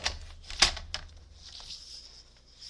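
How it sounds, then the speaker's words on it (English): Scissors or a trimmer cut cardstock for card making, giving a few quick, crisp snips close by, the sharpest near the start, then a soft fading rustle of paper in a quiet room. "So let's go ahead and cut that."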